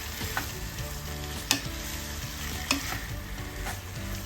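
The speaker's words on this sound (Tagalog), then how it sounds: "hinalo ko na ang ating uh, lamang loob" Pork liver and intestine frying in a pan, a steady sizzle broken by a few sharp clicks of a utensil scraping and stirring, close and moderately quiet with no talking.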